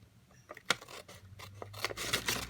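Scissors snip around a paper grid for medallion stamping, a run of close, crisp cuts and rustling slices that grow denser and louder toward the end.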